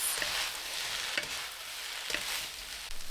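Crab fried rice mixed with light soy sauce, pepper, salt and sugar in a pan, a dense continuous sizzle with soft repeated stirring strokes, close and fairly quiet.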